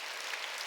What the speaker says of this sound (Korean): 이게 깨달은 사람만 박수 치라고요.